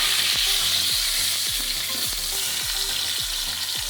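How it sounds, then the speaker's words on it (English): The fat side of a New York strip steak sears in a hot pan, a loud continuous sizzle with a low rhythmic thumping underneath and no talking. "We're gonna sear the fat side for 30 seconds."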